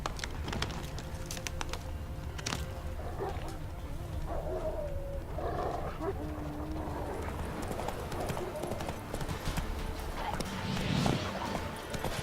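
Hooves of the horse Roach clip-clop in a steady galloping rhythm in a video game, with a voice talking now and then over the hoofbeats and faint bird calls.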